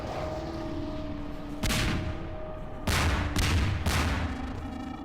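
A bomb goes off in a Half-Life map, producing several loud booming blasts in quick succession over a steady game hum, close and heavy.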